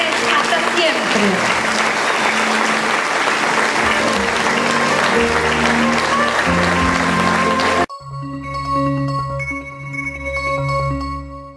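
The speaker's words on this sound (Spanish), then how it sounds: "Quiero pedir un fuerte aplauso a nuestros queridos egresados y desearles hasta siempre." Audience applause for graduates at an end-of-school-year ceremony, a dense, steady wash of clapping for about eight seconds that cuts off abruptly into a short music sting.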